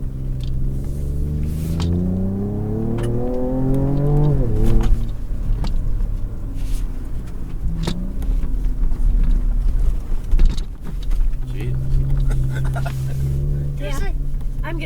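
A 2024 Ford Ranger Raptor pickup driving a wet off-road course, its engine droning and rising in revs, then easing and climbing again, loud from inside the cab with voices at times.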